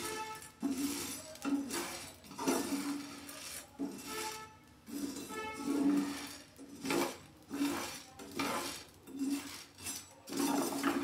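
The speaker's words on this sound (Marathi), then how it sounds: "आपले साबुदाणा आता व्यवस्थित भाजून होत आहे।" Sago pearls dry-roasting in a pan, with repeated scraping and stirring strokes, light clinks and rubbing against the metal, steady and close with no talk.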